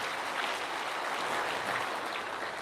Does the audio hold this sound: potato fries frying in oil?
no